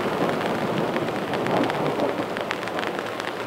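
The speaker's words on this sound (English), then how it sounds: "this has led to quite a bit of instability. So we're having these thunder showers build up in the afternoon and obviously bring us some rain" Rain pours steadily during afternoon thunder showers, a dense, even hiss of drops striking surfaces close by, with no voices.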